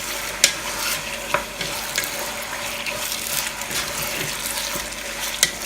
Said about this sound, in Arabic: رح نضيف الرز، رح نقلبه مع البصلة ونحمصه شوي صغيرة